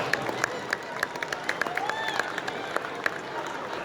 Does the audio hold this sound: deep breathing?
no